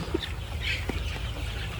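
A few soft, scattered clucks from Sonali hybrid chickens on a farm of three thousand birds, at low volume against a quiet background hum.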